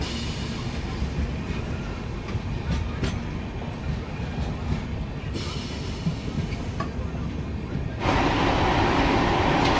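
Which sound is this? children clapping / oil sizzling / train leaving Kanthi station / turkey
train leaving Kanthi station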